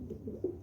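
A pigeon coos softly nearby in a brief, low, throaty call repeated twice, with no voices.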